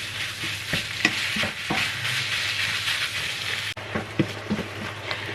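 Pork and large onion stir-fried in a pan for a minced-pork Bolognese, giving a steady close sizzle throughout with repeated scraping and clacking strokes of the spatula against the pan.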